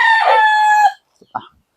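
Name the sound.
rooster crowing, backyard gamecock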